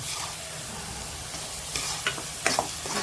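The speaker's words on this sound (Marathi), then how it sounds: "हे असं हे मिक्स होतं आहे आता टॉमॅटो पेस्ट" Tomato paste being stirred into frying chole masala, a soft continuous sizzle broken by a few scraping strokes of the spoon against the pan.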